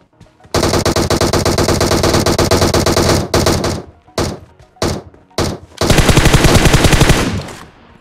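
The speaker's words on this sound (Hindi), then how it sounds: "तभी यहाँ पर सामने की तरफ से काफी ज्यादा फायरिंग साउंड आती है" Gunfire in the mobile battle-royale game Battlegrounds Mobile India: loud, close automatic bursts of rapid shots, a long stream, then short broken volleys and another sustained burst, no voices.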